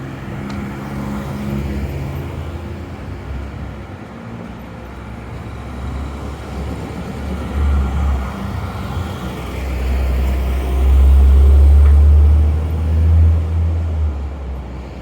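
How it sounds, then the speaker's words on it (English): Steady road traffic on Gottingen Street rumbles on continuously, with a heavier vehicle swelling louder past the midpoint before easing back; no talking. "Traffic going a little slower down here, not so noisy."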